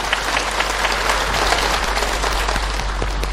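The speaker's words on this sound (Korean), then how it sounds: "자, 우리 박수로 맞이합시다." A television studio audience applauds steadily as couples walk onto the stage at a celebration for International Women's Day, dense even clapping filling the whole stretch with no talk over it.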